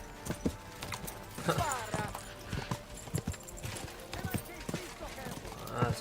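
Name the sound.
horse galloping in the video game Kingdom Come: Deliverance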